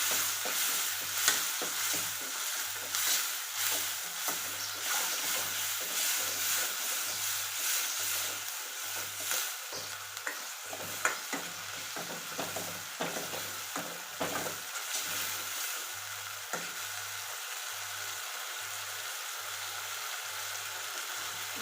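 Tomato frying in a pan for pav bhaji, a steady close sizzle with regular stirring scrapes throughout and no talk.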